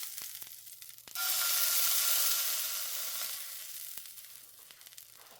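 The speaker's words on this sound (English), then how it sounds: "Get a little sear on that side." Wild duck breast sears in a pan, giving a close, bright sizzle that swells suddenly, holds loud and steady, then eases off while faint clicks sound in the background.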